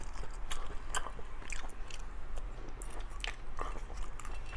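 Sea snails and seasoned shellfish are chewed close to the mic during a mukbang, with continuous wet, crunchy bites and smacking in an irregular rhythm, with no talk.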